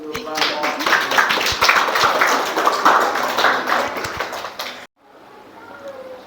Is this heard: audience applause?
yes